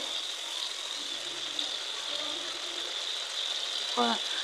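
Spices frying in oil make a soft, continuous sizzle with faint low background sounds and a brief scrape or clatter near the end.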